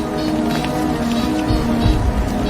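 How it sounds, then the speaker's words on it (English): Steady, dense rain pours down during a storm in which rain and snow fall together, a loud, constant wash that goes on the whole time with a few low thuds underneath. "I've never seen it rain and snow at the same time."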